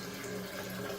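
Filtered water runs steadily from a kitchen tap, a continuous close hiss and splash with no pauses and no voices.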